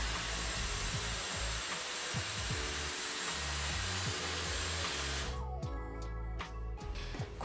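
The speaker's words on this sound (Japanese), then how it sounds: "ダイソンのドライヤーは風量が強くてすぐ乾くのでね" A Dyson hair dryer blows a steady, fairly loud rush of air for about five seconds, then cuts off, leaving a few quiet clicks and handling sounds afterward.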